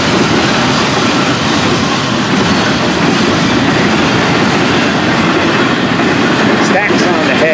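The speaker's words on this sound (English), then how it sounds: "Charge of FEC's 101 tonight." An FEC 101 freight train with piggyback trailers on flatcars rolls past close by, a loud, steady rumble and rush of wheels on rail with faint clickety-clack throughout.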